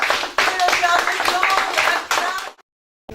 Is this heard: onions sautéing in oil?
no